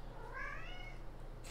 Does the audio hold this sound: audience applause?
no